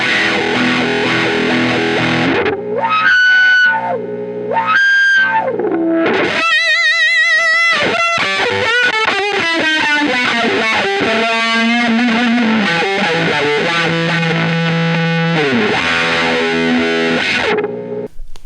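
An electric guitar played through a wah pedal into a fuzz pedal with a buffer between them, loud and heavily distorted, with sweeping wah tones and sustained fuzzy notes and chords, no talking.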